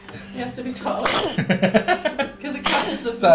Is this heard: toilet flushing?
no